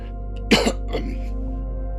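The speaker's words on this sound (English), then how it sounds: "I'm going to have to mute myself because the bronchitis is going to require a cough" A single throaty cough from someone with bronchitis, close and abrupt, followed by a smaller second cough against a low steady hum.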